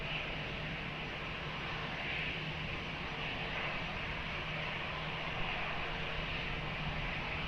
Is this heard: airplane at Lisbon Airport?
yes